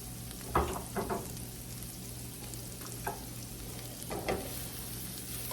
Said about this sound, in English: Break them up a little bit, get them all cooking nice and even.